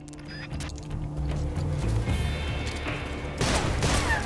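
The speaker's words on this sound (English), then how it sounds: "Ocelot has 2 single-action army revolvers." Single-action army revolvers fire in a firefight in the video game Metal Gear Solid Delta: Snake Eater. Sharp shots and booms recur over rumbling game sound effects and music, with no voices.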